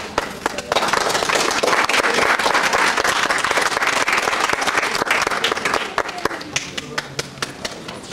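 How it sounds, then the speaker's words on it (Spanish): An audience at a lecture session on pre-Columbian and traditional Ecuadorian textiles breaks into loud, sustained applause welcoming an archaeologist, dense clapping holding steady for several seconds before thinning into scattered claps. "Vamos a recibirlo con un fuerte aplauso."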